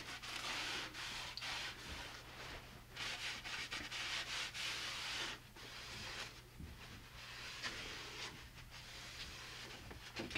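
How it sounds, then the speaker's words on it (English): Oil is wiped onto the wooden pieces of a winter camping sled by hand. Quiet, irregular rubbing and swishing strokes continue close up in a still setting, with a low steady hum underneath. "Wiping down the wood."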